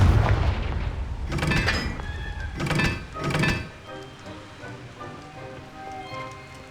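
Spell blasts of Confringo, the explosive curse in the Hogwarts Legacy video game: three sharp bursts about a second apart, each with a crackling tail, loud and close, over a low rumbling background.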